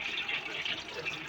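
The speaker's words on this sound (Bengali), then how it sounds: "তেজপাতাটা আমি ভেজে নিচ্ছি।" Whole bay leaves frying in hot oil in a pan, giving a close, steady bright sizzle with no pauses.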